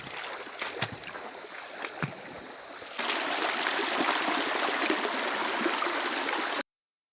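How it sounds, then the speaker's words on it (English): River water swirls and splashes around legs while wading in a mountain stream in Cyprus, a close steady rushing that grows louder midway before cutting off. "I'm just going to walk in the river. It's so nice. The cold water around my legs"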